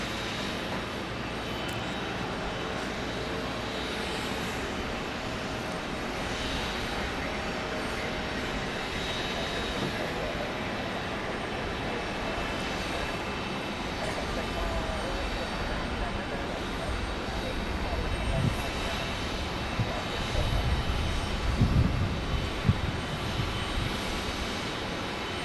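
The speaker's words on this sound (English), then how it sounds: "Next arrival, American 2829 from JFK, 737-800." An American Airlines Boeing 737-800 arriving at Phoenix Sky Harbor makes a continuous jet engine roar that swells louder toward the end, with voices talking over it.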